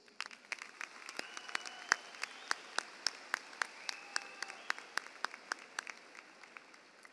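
A high school commencement crowd gives steady applause for the graduates' families and teachers, a dense wash of many hands with sharp individual claps standing out, heard from a moderate distance.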